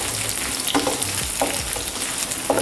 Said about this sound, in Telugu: మనకు ఉల్లిపాయ మెత్తపడే అంతవరకు వేగాలి